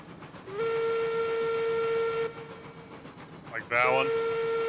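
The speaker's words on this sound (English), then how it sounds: "God, I love how throaty this whistle is compared to some of the whistles." A throaty steam locomotive whistle in the train game Railroads Online sounds one long, steady blast, falls quiet, then starts a second loud blast with a wavering onset, over low rumbling.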